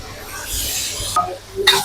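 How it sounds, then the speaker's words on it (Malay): Tamarind juice is stirred in a cooking pan, giving soft scraping and gentle sizzling, with a couple of brief utensil clinks near the end. "Kemudian kita godak lagi dia."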